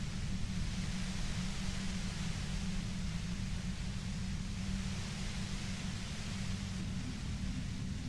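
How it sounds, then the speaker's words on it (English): White noise from a Pale generator in the video game Disco Elysium: a dense, steady hiss with a heavy low rumble, unchanging and loud throughout, with no voices. "If you've got something really important to say, you can do it through the white noise."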